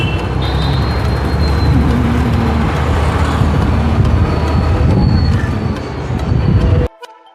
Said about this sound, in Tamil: வண்டியை ராக்கெட் மாதிரி ஓட்டுறாரு நம்ம மெக்கானிக்கு